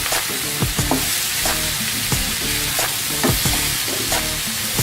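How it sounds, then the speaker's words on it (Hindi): Tomatoes with dried pomegranate seed and dried coriander are stirred in a pan for a chana dal and bitter gourd dish, a spoon scraping in irregular, clacking strokes over a steady sizzle, close and clear with no talk. "अब हम इन सबको मिक्स कर लेंगे।"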